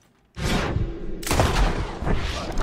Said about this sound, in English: Don't run towards the gunshots!